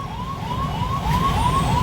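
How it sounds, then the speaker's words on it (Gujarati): An ambulance siren wails, rising and falling repeatedly over the low rumble of traffic, fairly close and continuous. "ઓલો એમ્બ્યુલન્સ વાળો ફૂલે ફૂલ કરે છે ભાઈ"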